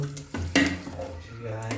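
Spices are tempered in hot oil (oggarane) for punde palya, a sour leafy greens dish, with a loud sizzle and crackle, a clatter of a spoon or pan, and some talk over it.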